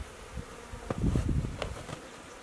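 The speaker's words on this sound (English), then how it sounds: "It's pretty hard not to hurt a bee." Honey bees buzz during hive installation in Alaska, a steady close drone with short louder swells; no talking.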